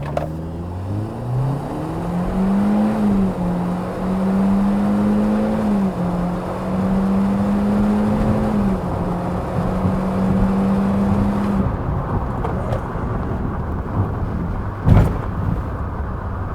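A 2020 Hyundai Venue subcompact SUV with a continuously variable transmission and front-wheel drive accelerates hard, its engine droning at a steady held pitch for about ten seconds before easing off, with road and wind noise beneath.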